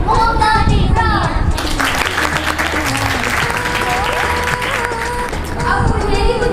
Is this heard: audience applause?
yes